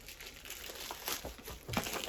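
A black plastic parcel bag crinkles and rustles while a package is unpacked, with repeated soft crackling handling sounds, close and fairly quiet, with no one speaking.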